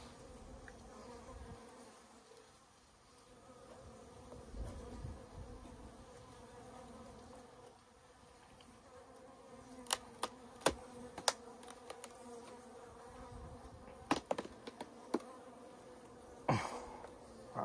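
Bees buzz steadily around a Warré beehive in a bee yard, a continuous close insect drone with a few sharp clicks and knocks near the end.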